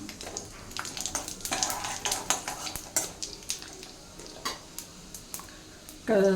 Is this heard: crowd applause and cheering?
no